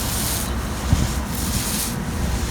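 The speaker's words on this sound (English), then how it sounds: "So now I'm just back rolling the sand," A paint roller back-rolls silica sand into a fresh outdoor epoxy coat, making a loud, continuous gritty rubbing and scraping close by, with a few pulsing strokes and no voices.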